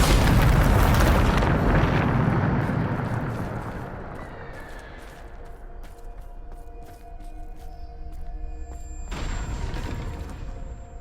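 A Bombarda spell explodes in the Hogwarts Legacy video game, a loud booming blast that rumbles and decays over several seconds, followed by a softer magical burst near the end.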